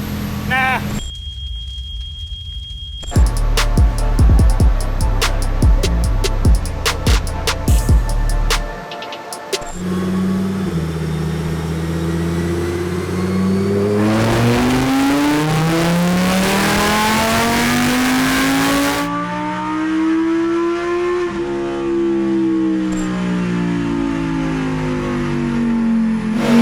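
A Lamborghini Huracan STO engine revs hard on a dyno, climbing through sweeping pulls with loud, sustained roars and a brief idle lull, while people talk nearby.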